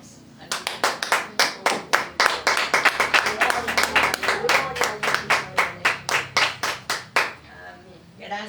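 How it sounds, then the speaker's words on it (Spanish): A church congregation claps together in a strong, steady rhythm, about four crisp claps per second, for roughly seven seconds before stopping abruptly, with faint voices underneath. "Démosle un fuerte aplauso a nuestro Dios."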